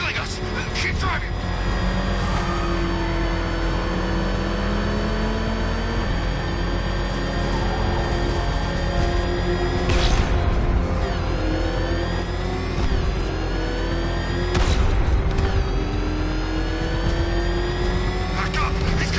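A car engine revs and strains during a chase in Batman Arkham Knight, its pitch climbing and falling as it speeds along, loud and continuous, with sudden crashes and impacts and voices talking over it.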